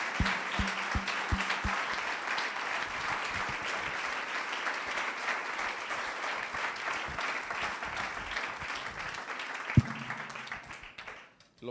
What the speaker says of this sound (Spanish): ¿Por qué no le damos un aplauso al Señor que hace estas cosas?